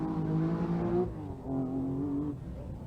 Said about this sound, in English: Henry Toivonen has the luxury of dropping the revs on his Rotman's Porsche.